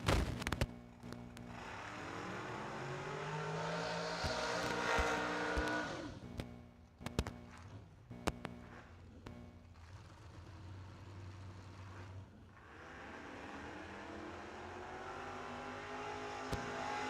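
A dragster at a New Year Nationals drag race roars down the strip, a loud engine blast with rising harmonic sweeps that fades, then another run builds in the distance amid crowd and track ambience.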